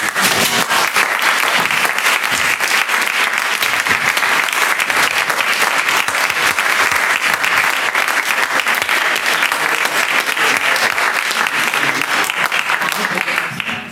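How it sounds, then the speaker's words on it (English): Loud, continuous audience applause for actors at the end of a play, a dense unbroken wash of clapping that holds steady for the whole stretch and cuts off abruptly. "I think it's a great round of applause for the actors."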